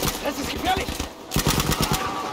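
Battlefield gunfire, rapid bursts of automatic shots in two clusters with a short gap between, loud and close, with in-game noise underneath.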